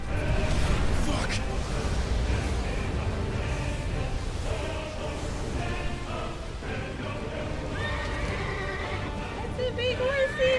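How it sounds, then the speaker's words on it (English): A horse neighs in the video game Final Fantasy XVI, its whinny rising over dense, loud game music and battle effects, with a voice talking over the mix. "That's a big horsey."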